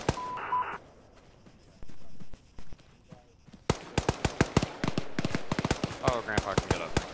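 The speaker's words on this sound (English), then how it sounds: "You guys are firing at each other." Arma gunfire in a military milsim operation: after quiet radio beeps and faint chatter, a dense run of sharp rapid shots erupts, bursts of close automatic fire continuing steadily to the end.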